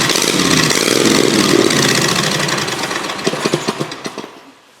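A V-twin chopper motorcycle engine runs with a loud, rough, close-up roar that gradually slows into separate uneven chugs and dies away.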